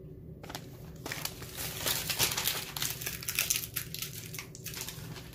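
Printed photo sheet pieces being peeled off for custom dominoes, giving faint, close crinkling and crackling of paper and backing in a continuous irregular run.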